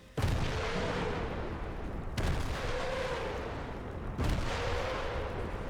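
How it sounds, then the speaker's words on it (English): Nebelwerfer rocket artillery launching in Sniper Elite Resistance: three heavy booming salvos at roughly two-second intervals, each a loud whooshing blast that trails into a long rumbling roar before the next. "We haven't seen Nebelwerfers in Sniper Elite since Sniper Elite 3, so it's nice to see them back and they sound great"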